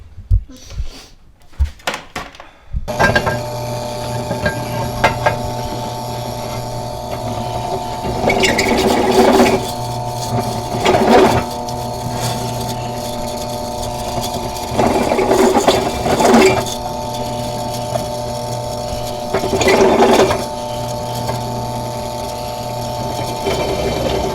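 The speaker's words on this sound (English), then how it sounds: "we got to drill those holes out anyways" A drill cuts holes in the body of a 1964 ratrod lowrider, with bursts of high whining machining over a constant mechanical hum, repeating several times after a few clunks at the start.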